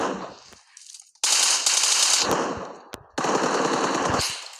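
Rapid automatic gunfire from a video game comes in loud sustained bursts, separated by short quiet gaps and a single sharp shot, with no talking.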